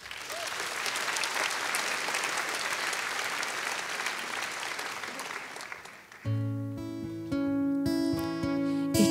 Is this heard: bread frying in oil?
no